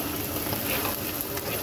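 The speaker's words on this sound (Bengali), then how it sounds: "এবার পেঁয়াজটাকে সুন্দর করে ভেজে নিতে হবে।" Onion frying in hot oil, a dense and continuous close sizzle with fine crackling that stays loud and even throughout.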